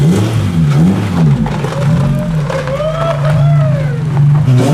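Honda Civic fitted with a swapped B18 engine idling loudly nearby, then blipped in a couple of rising and falling revs before settling back to a steady idle.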